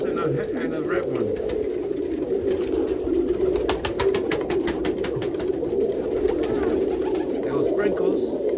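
Pigeons, including tumbler and roller hens, coo continuously in a loft, a dense low rumble of overlapping calls with occasional wing flutters, close and fairly loud.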